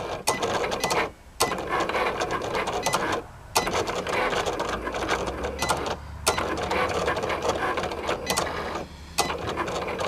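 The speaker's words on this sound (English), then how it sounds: "as you can see, it's going through the Cricut" A Cricut cutting machine feeds a Dollar Tree Plus cutting mat through, giving a steady mechanical whir and clatter with rhythmic motor pulses and brief pauses, close and fairly loud, with no talking.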